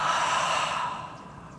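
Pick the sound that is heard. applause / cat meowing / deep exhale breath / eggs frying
deep exhale breath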